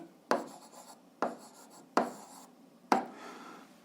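Pen strokes on paper while writing out an algebra solution, four separate scratchy bursts spaced about a second apart, close and fairly quiet with no talk.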